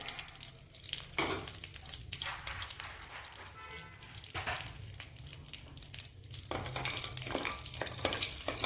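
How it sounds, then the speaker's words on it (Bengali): Cashews and raisins fry in ghee in a kadai, a soft close sizzle broken by repeated stirring scrapes and clinks of a spoon against the pan, quiet overall with no talk. "কাজু আর কিশমিশটাকে এক দু মিনিট ভেজে নিতে হবে"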